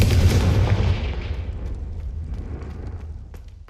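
A Confringo blasting spell detonates in Hogwarts Legacy, a loud, deep boom at the start that rumbles and slowly decays over several seconds, standing alone without talk.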